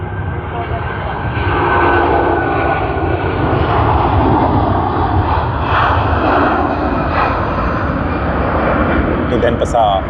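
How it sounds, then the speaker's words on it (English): A Garuda Indonesia jet in its 74th anniversary livery, flight 715, rumbles loud and steady with a broad engine roar building slightly mid-way, while a voice talks over it. "That was the 74th anniversary livery of Garuda Indonesia 715"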